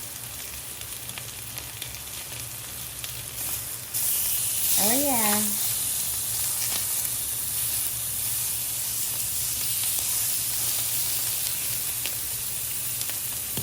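Chicken sizzles steadily while grilling in a pan, a continuous frying hiss that grows louder after a few seconds, with a brief spoken interjection partway through.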